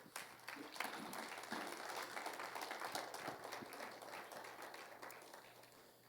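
A church congregation breaks into steady, dense applause that stays fairly faint and distant and runs for several seconds with a low hum beneath it.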